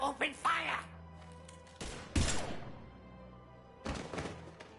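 Gunfire in the Mass Effect 3 video game arrives as a few heavy thumping shots and blasts, close and loud, with voices and game sound around them.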